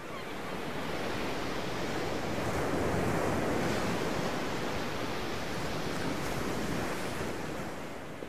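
Sea waves roll in with a broad, continuous roar of surf that swells slightly mid-way, mixed with gusting wind noise, and no voices.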